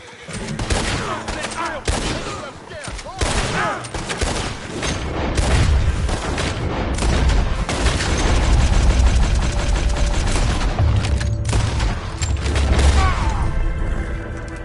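Rapid volleys of cavalry gunfire roar in Red Dead Redemption 2, dense overlapping shots and booms filling the scene loudly and almost continuously, with game dialogue mixed beneath.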